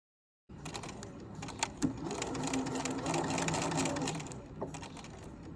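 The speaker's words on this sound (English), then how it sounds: "we're gonna start out with the back stitch, forward 3, backwards 3, and then we're gonna go forward to the corner" A sewing machine runs steadily while back stitching a seam, going forward and reversing a few stitches at a time, a close mechanical whir with small clicks at the direction changes.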